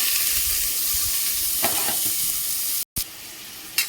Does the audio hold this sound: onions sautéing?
yes